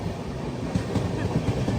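Kanyakumari–Pune Express passing at Parasala station, a steady loud rumble of wheels with faint rhythmic clatter of rail cars running on without pause.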